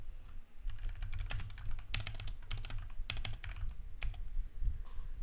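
Dense, quick keystrokes on a computer keyboard, typed in irregular bursts with brief pauses, close and clear with no talking.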